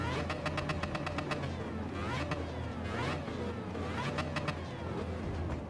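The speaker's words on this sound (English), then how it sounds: "Mazda with the rotary sounds freaking awesome" A high-pitched, buzzy Mazda rotary engine in Gran Turismo 7 revving up and down, with rapid rattling pops between revs, loud and continuous.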